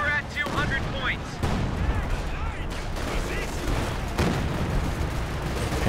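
Priest self-propelled artillery fire in the real-time strategy game Company of Heroes 2, a run of heavy booming hits and explosions layered over a dense battle din, with a commentator talking throughout.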